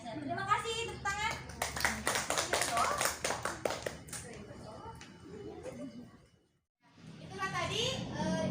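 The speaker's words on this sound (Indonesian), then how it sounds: "Tepuk tangan." A classroom of children claps hands during a lesson on congregational prayer rows, a burst of quick taps that briefly swells among children's voices, then fades into silence before talk resumes.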